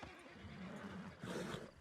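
A horse whinnies in a video game, with a sustained neighing call that rises and wavers, followed by a brighter, louder second burst near the end, close and clear with no speech over it.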